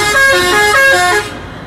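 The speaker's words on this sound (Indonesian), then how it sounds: "Wow, lihat teman-teman, ada bis Eka-nya." An Eka bus sounds a loud, close horn with several bright, sustained tones over a rumbling engine as it passes, then the horn cuts off and the noise falls away.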